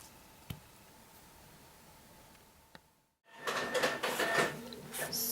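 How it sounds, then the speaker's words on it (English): A printer whirs and clatters in the background, starting up after a quiet stretch with a couple of clicks, then running with busy mechanical rattling. "you can probably hear my printer going in the background"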